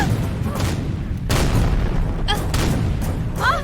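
A dull, rumbling explosion from a TV serial rolls out under dramatic music, with a louder burst about a third of the way in and several softer booms trailing after.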